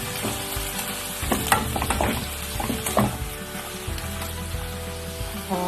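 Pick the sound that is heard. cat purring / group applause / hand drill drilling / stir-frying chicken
stir-frying chicken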